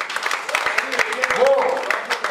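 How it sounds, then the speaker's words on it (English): Audience applause for the five lucky winners of a Camlin 'Hichki' contest at KidZania: a dense, steady patter of many hands clapping throughout, with a voice speaking over it partway through. "Give a round of applause for them."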